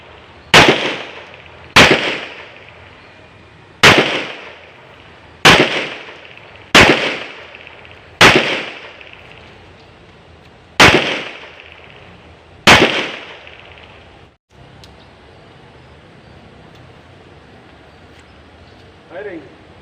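Nine mm pistol shots at an outdoor shooting range, about eight sharp loud reports spaced a second or two apart, each with a short echoing decay, followed by quiet.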